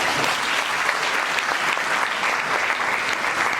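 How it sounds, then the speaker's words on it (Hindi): A crowd at a network marketing training event in Meerut claps loudly and steadily, a dense, sustained wash of applause filling the room without a break. "जोरदार तालियां होनी चाहिए इस इंडस्ट्री के लिए।"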